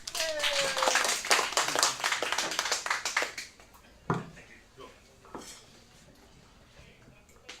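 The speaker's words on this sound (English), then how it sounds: "Please give a warm round of applause for our host for the open mic portion" An audience at a comedy club open mic night applauds the host, a dense burst of clapping that thins out and fades to scattered claps, with a few faint voices underneath.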